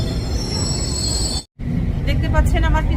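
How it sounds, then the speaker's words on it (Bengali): A London Underground Circle Line train arrives at a crowded westbound platform, rumbling and screeching. A short break interrupts the sound midway, and voices murmur around it. "আমার পিছনে সার্কেল লাইন চলে এসেছে, এটিতে এখন উঠে পড়ব।"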